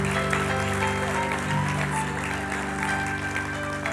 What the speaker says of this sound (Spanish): Les podemos dar un aplauso a los que estén ahí cerca